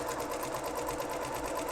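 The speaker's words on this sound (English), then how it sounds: "I just want to make them even, and just simply sew with a sewing machine." A sewing machine stitches the seam of a child's side-panel dress with sleeves, a steady, continuous close-up whir with a fast even rhythm that runs unbroken throughout.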